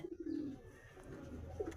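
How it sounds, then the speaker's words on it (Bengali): Madras pigeons cooing at close range, a soft low series of coos with a short pause in the middle and a final coo near the end, quiet and alone. "এ হচ্ছে আমার বাড়ির ম্যাড্রাস পায়রা।"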